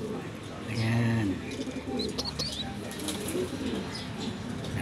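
Pigeons coo repeatedly in a backyard loft with racing pigeons and young birds, soft low throaty calls rising and falling close by, joined by a few higher chirps and possible wing flutter, while someone talks quietly at times.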